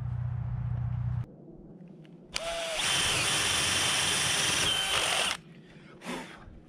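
A power drill whines at full speed drilling holes in a wooden wall plate for a pole barn house, preceded by a low motor hum and followed by a brief short burst.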